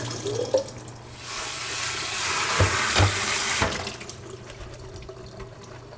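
Tap water runs into a sink, splashing loudly for a couple of seconds as a can of garbanzo beans is rinsed, with a few clunks from the can before the flow tapers off.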